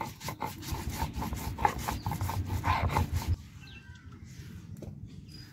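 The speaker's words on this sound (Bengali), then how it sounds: "আদা একসঙ্গে বেটে নেব।" Ginger, cumin and black mustard seeds ground together into paste by hand on a stone, a steady rasping rub with rhythmic strokes for a few seconds before it stops, leaving only quiet room background.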